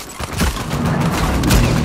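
Gunfire in Uncharted 4 multiplayer, a short burst of loud rapid shots cracking close over a rumbling game background.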